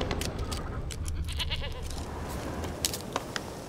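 A goat in The Witcher 3 bleats in short wavering calls amid scattered clicks and rustles, fairly close and moderately loud, with no talk.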